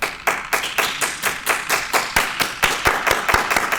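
Rhythmic, unison clapping from a convention panel audience, about three claps per second, sharp and evenly spaced, growing slightly crisper toward the end.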